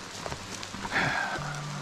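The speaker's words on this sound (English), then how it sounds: "It's been raining pretty good for the last" Steady rain falls on a forest canopy during a mountain hike, a dense, continuous hiss of drops and spatter that stays fairly loud and even throughout, with no voices.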